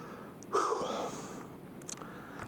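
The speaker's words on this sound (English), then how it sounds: "You're breathing too loud." A single heavy, wheezy breath rasps close to the ear, a loud exhale followed by quieter sniffs, with no talk.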